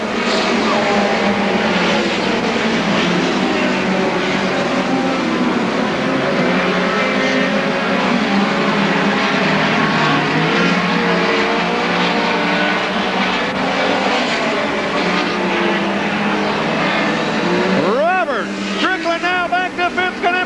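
Loud, continuous engine roar of several midget race cars circling a track at the 1990 Belleville Midget Nationals, with a crowd murmur beneath and a rising whine near the end as a car passes close.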